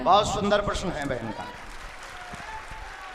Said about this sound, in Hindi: ताली बजाकर धन्यवाद दो।